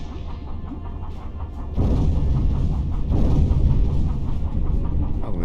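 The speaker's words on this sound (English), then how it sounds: "Wasserbomben." Depth charges explode in a U-boat submarine video game as muffled, deep underwater thuds. The rumble grows noticeably louder and heavier partway through and stays dense until the end.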